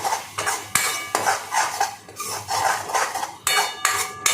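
Ground spices mixed in a pot for biryani, with repeated scraping and clattering strokes of a spoon against the metal pot in an uneven rhythm, close and moderately loud.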